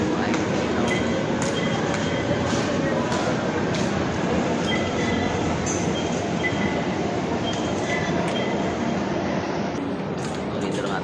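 Continuous rumbling roar of an MRT metro train in motion, with rattling and faint squeals, steady throughout with no clear speech.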